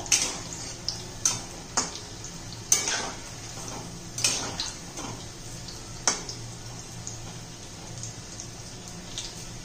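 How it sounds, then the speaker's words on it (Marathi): Soybean koftas frying in oil in a pan, with sharp metallic clinks of a utensil against the vessel standing out over a low steady sizzle, the knocks coming irregularly and easing off toward the end. "सर्व कोफ्ते मी असेच तळून घेते आता।"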